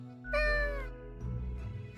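A cat meows in the video game Death and Taxes, with one clear, drawn-out meow near the start followed by softer game ambience.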